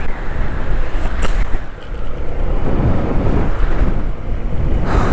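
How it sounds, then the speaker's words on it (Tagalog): Strong wind gusts roar steadily across the microphone in a foggy forest campsite, a dense continuous rush with no voices. "kaso ang lakas ng hangin"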